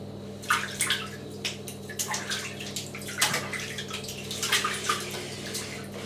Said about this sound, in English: let's get some water in.